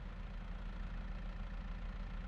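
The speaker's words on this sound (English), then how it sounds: "I jump in and restart the tractor" A tractor engine in a farming video game runs at a steady low idle, a continuous even rumble with no talk over it.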